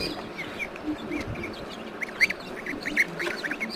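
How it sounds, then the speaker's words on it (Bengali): Geese feeding at an afternoon meal on a farm with ducks and hens, giving scattered soft honks and chirpy calls over a low, steady background murmur, with a couple of sharper, louder calls close by. "দেখো এখানে রাজহাঁসগুলো কেমন খাচ্ছে।"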